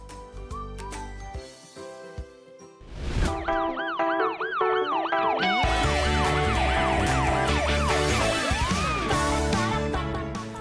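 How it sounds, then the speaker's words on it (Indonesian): Cartoon emergency vehicle sirens from the children's show Daily Safety with Amber, loud wailing and yelping tones that sweep up and down continuously, layered over one another and music-like effects, with no talking. "Jika sudah ada suara sirene seperti ini, maka bersyukurlah, karena artinya tim penolong sudah tiba."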